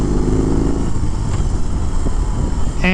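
A 2021 BMW R 18 1800 cruiser motorcycle riding down the road, its engine a loud continuous rumble with steady wind noise throughout, no voice over it.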